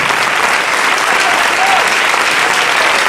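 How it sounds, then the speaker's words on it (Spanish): A church congregation applauds during a pastor's sermon, loud, dense, continuous clapping across the whole moment, with a faint crowd murmur underneath. "Dele un aplauso al Rey."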